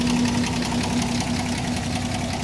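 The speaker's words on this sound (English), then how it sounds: "Yeah, engine runs good." A 1978 Toyota Land Cruiser's inline-six engine runs steadily at idle, a close, even mechanical rumble with a constant low hum and faint knocking texture, no voices over it.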